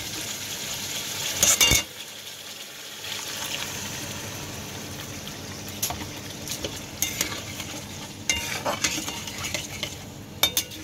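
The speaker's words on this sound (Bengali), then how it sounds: "এবার আমি এর মধ্যে দিয়ে দেবো আমার ফেটানো দই" Beaten yogurt being added and stirred into fried masala in a pan for a Bengali doi katla fish curry, with a soft steady sizzle under intermittent clinks and scrapes of a spoon against the pan.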